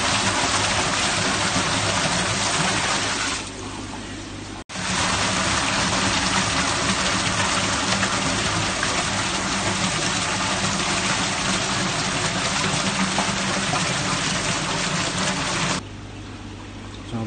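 Water pumps steadily through a Nexus 320 pond filter in a constant gushing, churning rush, with a brief dip and cutout partway through.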